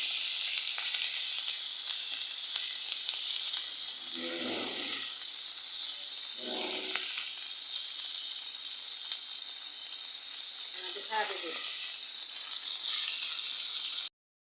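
Jatka fish pieces fry lightly in oil in a kadai. A steady, bright sizzle hisses without a break, with a few brief, muffled low bursts rising over it now and then before the sound cuts off.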